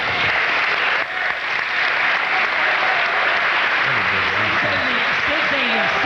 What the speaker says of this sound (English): a hand, if you will, big round of applause for a tough competitor, Sid Rosenberg